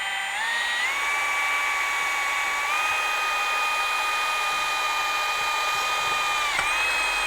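A power drill bores through a pool cover undertrack encapsulation, giving a steady, loud high whine that holds throughout with small shifts in pitch, close up and without speech.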